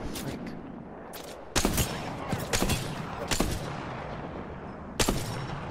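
Gunfire aimed at the player in the Apex Legends video game, several sharp close shots and short bursts cracking over a dull background, with quieter pops in between.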